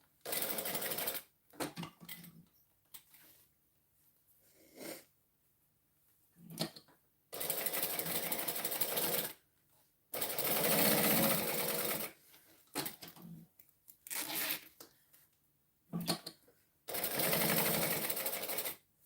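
Sewing machine stitching a Modified Floozy bag in repeated bursts of steady motor whir, stopping and starting with pauses between runs, close and clear with little talk.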